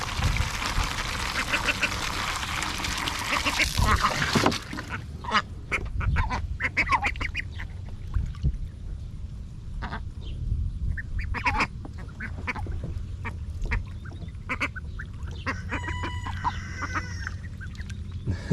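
Indian runner ducks jumping into fresh water, with a loud burst of splashing and pouring water at first, then scattered quacks, clucks and small splashes at close range.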